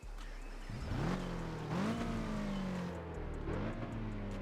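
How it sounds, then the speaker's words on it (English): McLaren F1 engine in the racing game Test Drive Unlimited 2, revving and shifting through gears with rising whines that drop at each upshift, loud and continuous over a low rumble. "But the McLaren F1 is crazy. Oh man, look at this guy. Let's test drive this."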